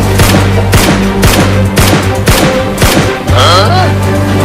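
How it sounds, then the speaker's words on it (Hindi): Rapid gunfire from a gun shot at a fish in a flooded village comedy scene, a loud series of sharp bangs in quick succession over music and background clatter, ending with a swooshing effect. "अभी उस मछली को गोली मारता हूँ"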